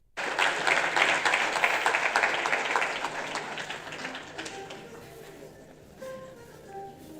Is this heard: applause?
yes